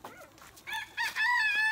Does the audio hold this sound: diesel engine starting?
no